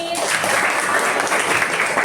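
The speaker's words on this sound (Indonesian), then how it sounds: "Udah tepuk tangan untuk kita pembelajaran hari ini." A school class claps together at the end of a lesson, a brief burst of many hands, fairly loud and even, with a voice briefly audible at the start.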